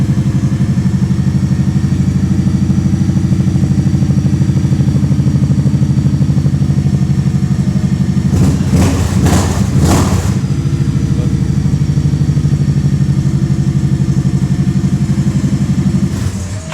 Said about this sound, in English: Bike runs, it starts better.